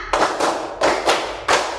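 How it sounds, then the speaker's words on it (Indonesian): Three sharp group claps ring out in a classroom, evenly spaced during a counted clapping pattern, each a loud crisp burst from many hands with no talking between them. "Tepuk 1, tepuk 2, tepuk 3, tepuk 4, tepuk 5"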